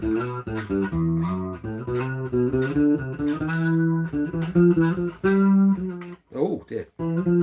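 An electric guitar played through an effects pedal plays a run of notes and sustained tones, ending with a few pitch-bending squeals, loud and up close.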